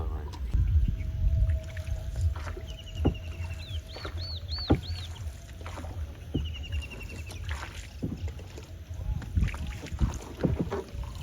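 A fishing boat travels along a river with a steady low engine and water rumble throughout, while distant birds and a crowing rooster call intermittently over the top.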